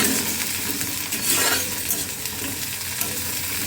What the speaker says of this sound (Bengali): এবার পেঁয়াজটা দিয়ে দেবো বেরেস্তা করার জন্য